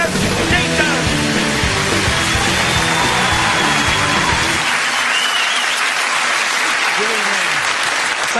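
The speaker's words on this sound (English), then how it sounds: "please make some noise, specifically of the excited and welcoming kind" A television studio audience applauds and cheers to welcome the host of a comedy panel show: a dense, loud roar of clapping and whooping that runs steadily and then thins slightly toward the end.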